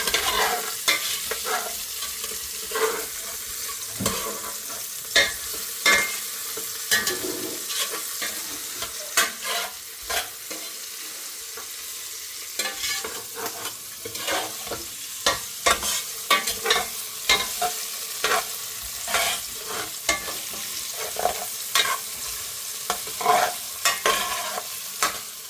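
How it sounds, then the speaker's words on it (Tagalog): Ingredients for Filipino chicken tinola are sautéed in a pan until lightly golden, with a constant close sizzle of frying under repeated scraping stir strokes, continuing without voices. "Gisahin mo. Hanggang sa mag-golden brown ng konti."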